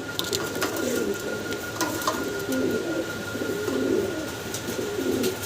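Three fancy pigeons, a pied beauty, an indigo and a German shield, coo nearby with soft, repeated throaty rolls over a steady background hiss, punctuated by light scratchy clicks.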